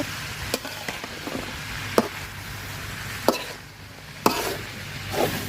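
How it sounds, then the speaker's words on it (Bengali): Vegetables fry in oil with salt and a little turmeric for khichuri, a constant close sizzle broken every second or so by sharp spatula knocks against the pan. "সবজিটা আমি তেলের সাথে খুব সুন্দর করে বাজা নিছি"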